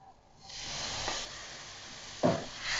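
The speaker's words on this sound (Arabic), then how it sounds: "وعشان اللحمة طاسة وحتة زبدة، شوية زيت، وهننزل بأول حاجة البصل" Chopped onion hits a pan of melted butter and a little oil, giving a soft, steady sizzle and hiss with a couple of brief stirring scrapes, faint and close.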